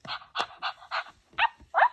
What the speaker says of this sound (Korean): 여기 누르면 네. 강아지 소리가 나네.